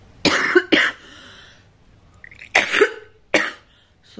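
A woman coughs in a quiet room, four sharp, close bursts in two pairs separated by a pause, the last pair a little rougher, with no talking.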